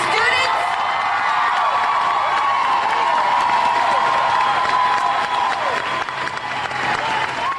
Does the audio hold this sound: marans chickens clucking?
no